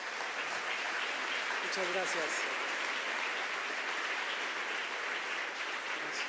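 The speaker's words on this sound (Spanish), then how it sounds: "Vamos a darle un aplauso, por favor." Conference audience applause after a lecture on human rights and education: a steady, fairly distant wash of clapping, with a brief spoken thank-you near the start.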